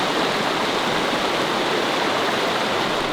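River flowing with slush as it freezes during a big snowstorm: a continuous, loud rushing hiss of moving water, steady and unbroken, with no voices.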